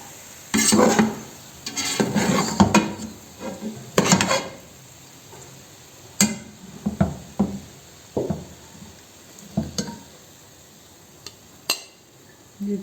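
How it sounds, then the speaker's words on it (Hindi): Cooked mutanjan, a Pakistani sweet rice dish, is served out of the pot, with a spoon scraping and knocking against the metal in irregular bursts, close and fairly loud, separated by short quiet gaps. "अब फ्लेम इसका ऑफ करते हैं और डिश आउट करते हैं।"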